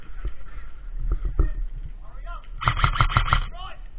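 Airsoft guns fire in short rapid bursts during a game, sharp ticking volleys up close, with people talking among the shots.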